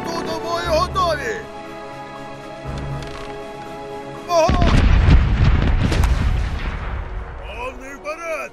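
Ship cannons fire a broadside in the pirate sea-battle game Corsairs Legacy, a sudden heavy roar of overlapping booms that rumbles and fades, after quieter moments with game music and voices.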